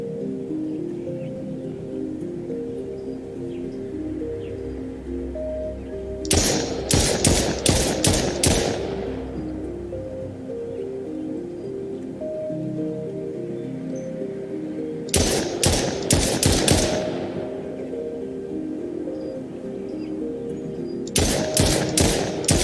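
Rapid bursts of automatic gunfire come from the BotFightSim video game. Three separate volleys crackle over a low, steady game soundtrack, with no voices.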